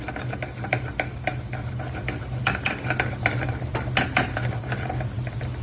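Garlic fries in a pan toward golden, giving a steady close sizzle broken by repeated scraping and stirring clinks of a utensil against the pan.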